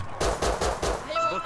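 An AK rifle fires in the video game Rust, a rapid burst of about five sharp loud shots in an even rhythm, followed by a faint ringing tail.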